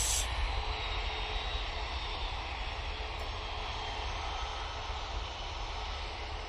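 Boeing 737 in .com livery on its takeoff roll in a flight simulator game, a steady, full engine roar with broadband rush holding constant throughout, no voices.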